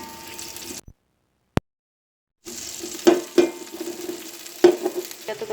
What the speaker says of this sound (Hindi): ऑयल मैंने पहले ही इसमें डाल दिया। तो इनको हल्का सा ब्राउन करना है।